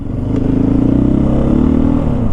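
A 2023 KTM 500 EXC-F dirt bike pulls away in first gear across a parking lot, its close, steady engine drone holding loud and rough with a faint clatter throughout.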